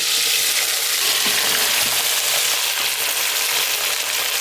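Potato, eggplant and beans fry in oil inside a pressure cooker, giving a loud, steady sizzle that fills the whole stretch, with a few faint scrapes of stirring underneath.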